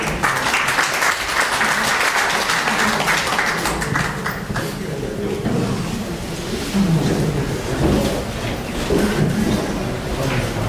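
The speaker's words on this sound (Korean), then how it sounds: "큰 박수로 맞이해주십시오." A seminar audience in a hall welcomes panelists with a long, loud, dense burst of applause that continues without a break for over ten seconds, a steady roar of many hands with no speech on top.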